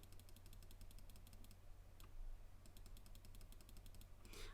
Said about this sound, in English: use my keypad, type in a 0, hit return on my keypad